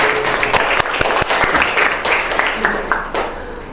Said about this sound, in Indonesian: kita beri aplaus yang meriah untuk kelompok 4